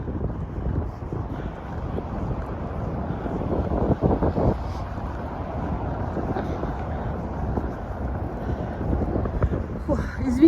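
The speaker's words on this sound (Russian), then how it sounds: "ветер в лицо" Strong wind buffets the microphone while walking outdoors in Brooklyn, New York, a loud continuous rushing roar with gusty surges that lasts the whole time.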